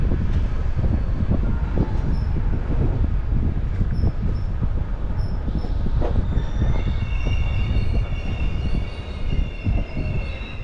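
A sleeper train running between Turkey and Bulgaria rumbles steadily with dense low wheel noise and rattling, plus thin high wheel squeals that rise near the end, close and continuous throughout.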